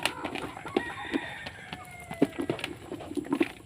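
Black Australorp rooster and hens on a small farm, with repeated soft clucks and short calls from the flock at moderate distance, a faint crow-like call rising now and then over steady outdoor background.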